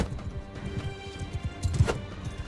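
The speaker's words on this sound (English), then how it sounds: "Alright, now it's just this horse we will try and take down." A horse's hooves pound in a quick, steady galloping rhythm in Mount and Blade II Bannerlord, mixed with battle clatter and a few heavier thumps.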